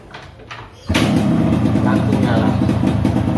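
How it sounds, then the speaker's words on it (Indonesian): An RX motorcycle engine, kept in collector condition, is started and settles into a steady, loud idle close by, after a short quieter lead-in. "Jadi mau dengar suara mesinnya masih seperti baru. Jadi tinggal starter."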